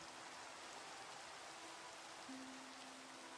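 Steady rain hisses evenly in a Minecraft world running the MineColonies mod, a constant wash of falling drops with no talk over it.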